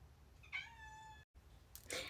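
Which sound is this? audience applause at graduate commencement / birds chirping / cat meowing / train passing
cat meowing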